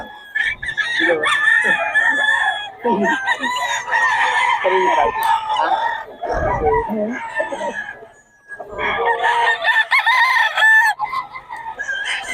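A rooster crows loudly and repeatedly, with clucking fowl and some background voices mixed in, a pause near the end before more crowing.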